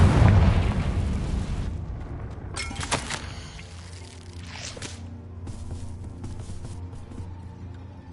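A Confringo blasting spell explodes in the video game Hogwarts Legacy: a loud booming burst at the start, then a few sharper pops and bangs that fade into a lower rumbling tail with game music.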